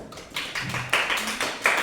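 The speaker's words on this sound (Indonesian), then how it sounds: "terima kasih, tepuk tangan" Brief classroom clapping, a few loose, uneven hand claps from a small group close by, coming in separate bursts over a quiet background.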